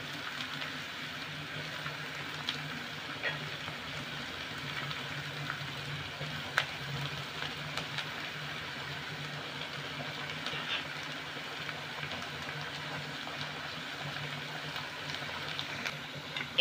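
Thin slices of raw potato fry in very hot oil with a continuous, close, even bubbling sizzle, soft and steady, broken only by a few faint ticks.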